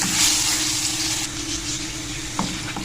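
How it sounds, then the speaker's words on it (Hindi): Chicken pieces fry with spices in a pan, giving a steady close sizzle throughout with a light scrape or stir near the end. "इसको हम कलर चेंज होने तक फ्राई करेंगे मसालों के साथ।"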